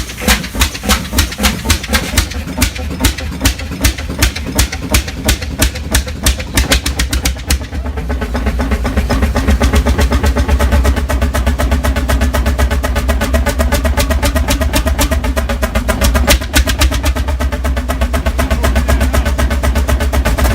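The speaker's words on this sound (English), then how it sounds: "This 30-horsepower air-start engine shakes the ground with its deep, rhythmic beat." Deep, steady rhythmic thumping from a 30-horsepower air-start Enterprise inline-six diesel engine that once drove high-pressure water pumps on a cattle ranch, loud and close, its beat changing character partway through with no voices.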